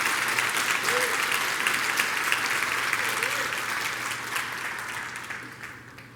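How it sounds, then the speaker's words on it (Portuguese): A church congregation applauding, dense sustained clapping from many hands that fills the room and gradually tapers off toward the end. "Pode dar uma salva de palmas aí, em nome de Jesus."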